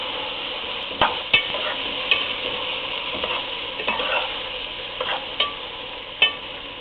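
Okra frying in a pan and being stirred, a steady close sizzle broken by about eight sharp scrapes and knocks of the spoon against the pan at uneven intervals.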